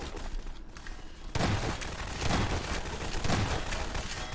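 Rapid automatic gunfire in the video game Garry's Mod, dense sustained bursts that start abruptly after a quieter opening and continue loud and unbroken to the end.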